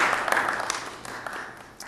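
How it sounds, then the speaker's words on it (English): An audience at a university commercialization talk gives a brief welcome applause, moderate clapping that fades gradually over about two seconds with a few sharper claps near the end. "Let's give John a big welcome applause."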